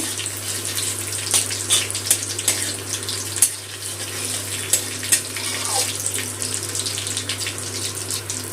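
Whole spices, cumin, bay leaf and dried red chillies hiss and crackle in hot oil for tempering, with a steady close sizzle broken by small pops over a low hum.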